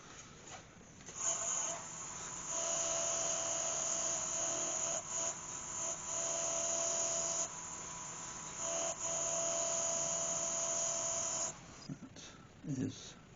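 Sandpaper at 320 to 600 grit rubbing a turned cherry wood bowl on a spinning lathe, a steady close hiss with a faint whine, broken by short pauses and ending with a brief stop.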